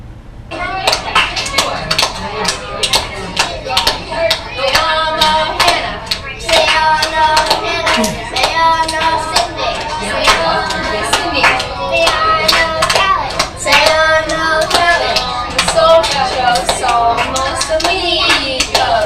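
Kindergartners sing together while doing a hand-clapping game, their rhythmic claps falling steadily in time with the chant throughout, loud and close, with no adult voice over them.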